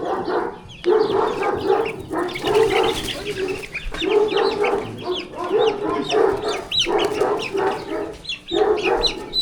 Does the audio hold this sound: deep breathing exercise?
no